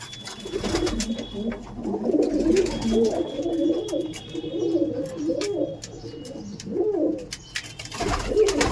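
Several Madrasi pigeons coo in low, overlapping throaty calls in a loft, steady throughout, with a few faint rustles and flutters nearby.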